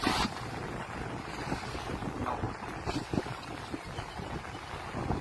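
Cool wind blowing by the sea, a steady rushing buffet across the microphone with a gust burst at the start and surf-like noise continuing throughout, no talking.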